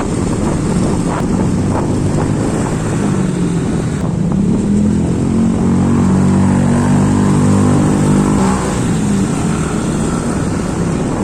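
A motorcycle engine drones steadily through heavy wind rumble, its pitch rising and falling as it rides along, loud and close.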